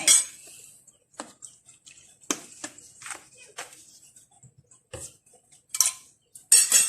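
Pickled garlic dropped into a papaya salad being made: a few close clinks and taps of utensil against the bowl or mortar, scattered and irregular, with someone speaking softly in between.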